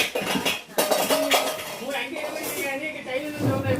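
Steel plates and curry vessels clink and clatter in a city kitchenware shop, with repeated close metallic knocks and rings while people talk over them.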